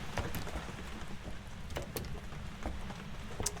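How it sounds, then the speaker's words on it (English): Steady rain falling on the Grafton Farmhouse map in Phasmophobia, a dense constant patter with occasional sharper drops hitting surfaces, loud and unbroken. "It's so loud when it rains on this map."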